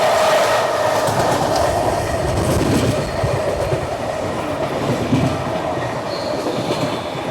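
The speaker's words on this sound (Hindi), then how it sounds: "तो फाइनली ओवरटेक मिल गया हमारे ट्रेन को।" Sachkhand Express passenger train, the 12716 superfast service, rolling steadily on rails while overtaking the Mahakaushal Express at Kosi Kalan, with a continuous loud rumble, clattering wheels and faint squeals, no voices.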